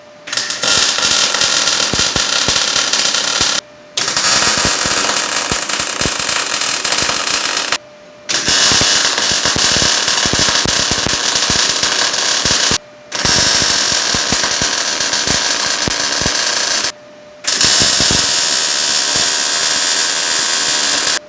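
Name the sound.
Everlast welder being tested, welding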